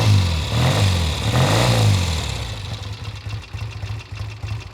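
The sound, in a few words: 1970 Triumph motorcycle engine starting and idling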